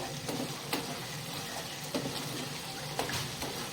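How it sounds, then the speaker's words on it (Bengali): Goat meat cooks in a pot with a soft continuous sizzle while a spoon stirs it, each stroke adding a light scrape or knock at roughly one-second intervals, close and fairly quiet. "ঢাকা খুলে নিয়েছি, এবার একটু নাড়াচাড়া করে নেব।"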